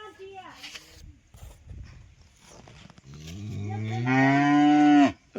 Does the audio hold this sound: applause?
no